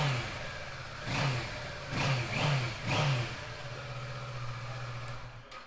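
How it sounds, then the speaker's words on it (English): A 2016 Kawasaki Versys 650 motorcycle idles and gets three quick blips of the throttle, each rev rising and falling sharply before settling back to a steady idle, close by. "Give it a quick rev for you because they sound pretty fruity,"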